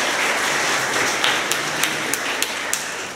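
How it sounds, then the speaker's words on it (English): Audience applause at a tech demo day event in Queens, a dense steady wash of clapping with a few sharper individual claps standing out near the end. "Let's give him a big round of applause."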